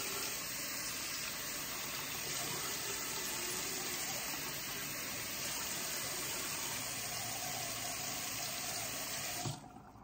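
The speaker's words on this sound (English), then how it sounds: "I will rinse it with water" Tap water runs steadily over a freshly done tattoo at a sink, a continuous close rushing stream that holds for about nine seconds before cutting off abruptly near the end.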